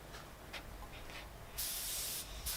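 Commercial furniture lacquer sprayed onto a wooden beech and jarrah dinner set piece, a steady hiss that swells into two strong bursts of spray near the end over a low background rumble.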